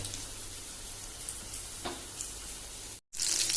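Pomfret coated in green masala fries Goan style in a little oil on a hot griddle, giving a continuous soft sizzle with scattered pops, briefly cutting out before returning louder and brighter.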